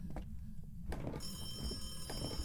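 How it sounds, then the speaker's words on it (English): A telephone rings inside the ghost-hunting video game Phasmophobia, a faint repeating electronic ring with steady high tones sitting under low game ambience and background noise. "There's a phone ringing."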